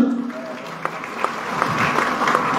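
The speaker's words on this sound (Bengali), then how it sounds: "আমরা আমাদেরকে করতালি দিয়ে অভিনন্দন জানাই।" An audience applauds at an Easter reunion gathering, a dense, steady clapping from a crowd that holds at an even level from start to finish.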